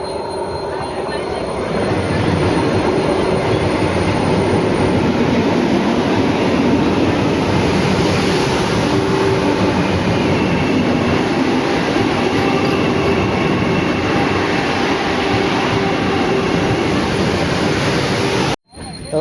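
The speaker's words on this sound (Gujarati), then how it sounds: "તો જબલપુર આરે વંદે ભારતનું ક્રોસિંગ જોવા મળી ગયું છે" A Vande Bharat train passing a crossing near Jabalpur, heard as a loud, steady roar of wheels and carriages rushing close by for most of the stretch, with rail hiss, before cutting off abruptly near the end.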